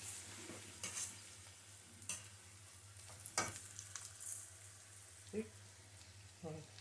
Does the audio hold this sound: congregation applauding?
no